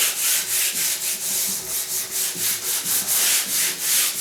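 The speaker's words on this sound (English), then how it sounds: "I'm going to sand the other direction, just to here." A painted door sanded by hand in quick back-and-forth strokes, a rhythmic scratchy rasp repeating about three times a second, close and steady, with no talk.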